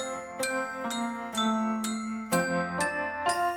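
Bell-like chimes ring out within a song, about seven bright struck tones landing in a steady rhythm over the sustained music, clear and prominent in the mix.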